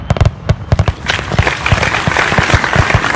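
Sharp bangs of fireworks burst in quick succession, then a crowd breaks into sustained clapping that continues over more distant pops.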